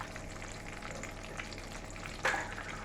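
Breaded leftover pork shoulder deep frying in oil on a stovetop, a steady low crackling hiss with one brief louder splash near the end.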